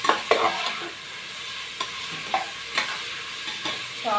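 A spoon scrapes and knocks against the pan, stirring ingredients for Kerala beef curry. Each stroke lands with a clatter over a steady sizzle of frying, close up, with no voices.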